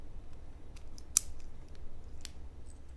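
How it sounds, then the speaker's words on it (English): A quick-release clip on a POM pepper spray keychain snaps open with a single sharp click up close, followed by a fainter tick against low, steady room noise. "You basically just push in on that and it pops that off."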